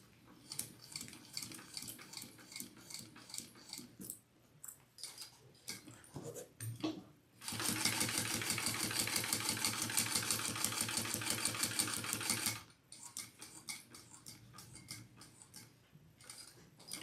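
Sewing machine stitching a crossbody bag, with a fast, even mechanical ticking that runs steadily for several seconds, framed by quieter stop-start ticking and handling sounds before and after.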